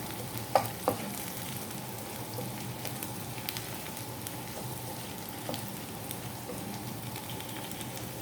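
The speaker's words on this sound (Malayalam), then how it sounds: "അപ്പോൾ നമ്മുടെ ഉണക്കമുളക് നന്നായിട്ട് മൂത്ത് വന്നിട്ടുണ്ട്." Dried red chillies fry in hot oil for a mutton curry, giving a dense, continuous close-up sizzle with a few stirring clinks near the start.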